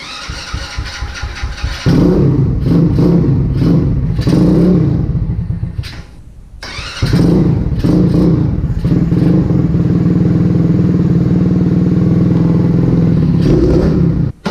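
Vader 125 Grom-clone motorcycle engine, just adjusted at the fuel mixture screw, chugs roughly at first, then runs loud and close with revving, a brief dip, and a steady raspy idle, with no talk.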